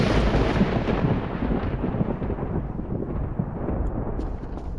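A deep, sustained rumble of thunder rolls through the video game Voices of the Void, loud and broad, slowly fading over several seconds with no talking.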